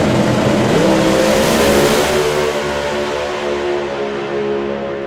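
A drag racing car at a doorslammers event accelerates hard down the strip, its loud, steady engine roar holding without a clear gear shift, close and alone with no talk.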